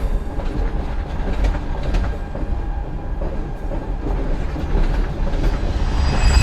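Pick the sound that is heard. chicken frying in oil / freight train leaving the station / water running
freight train leaving the station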